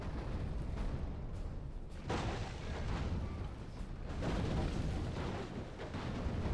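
Siege fire against a fortress wall in the strategy game Third Age: Total War, heard as a steady, dense roar of battle with rumbling booms and crackling impacts that continue without letup.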